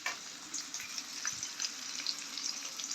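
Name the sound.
onions frying in hot oil for egg curry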